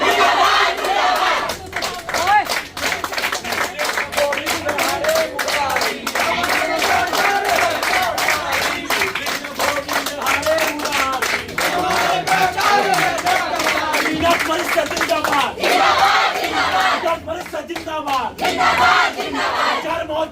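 A large crowd of protesting college students at NDC College, Budhar, chants slogans against the principal in loud, rhythmic unison, with scattered clapping and shouts running throughout.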